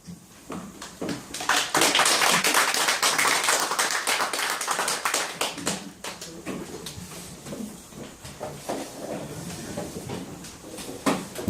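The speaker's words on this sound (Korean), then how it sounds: "우리 강사님 나오실 적에 좀 뜨겁게 좀 박수로 좀 맞이해 주시기 바랍니다" At a lecture hall event, an audience claps to welcome a lecturer onto the stage: dense applause builds quickly, then thins into scattered individual claps before trailing off near the end.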